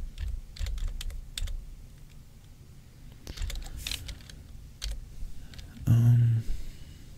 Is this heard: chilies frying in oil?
no